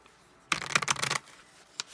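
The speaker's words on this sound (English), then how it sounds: "I know some people like the experience of waiting as I shuffle and things like that." A deck of tarot cards is riffled in one quick burst of dense fluttering slaps, followed by a single soft tap as the cards settle, with no talking.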